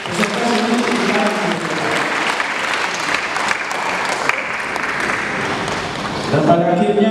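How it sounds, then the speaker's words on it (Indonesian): A seminar audience at a parish family event applauds warmly, a dense, steady burst of clapping lasting several seconds, with faint voices underneath. "kita berikan tepuk tangan yang meriah juga untuk peserta sekalian"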